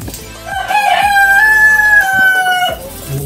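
A DeKalb Brown rooster crows loudly and close by in one long drawn-out call, with short clucks from other chickens around it.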